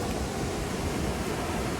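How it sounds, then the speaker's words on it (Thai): A rainy-season waterfall at Khao Yai, Thailand, pours in a steady, dense broadband roar, loud and continuous from start to finish with no voices over it. "ผมดูบรรยากาศน้ำตก ยาว ๆ เลย ครับ"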